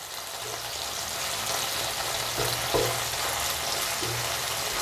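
Tomatoes and garlic roast in a hot pan, giving a steady broadband sizzle and crackle throughout, with a few soft scrapes as pieces are turned.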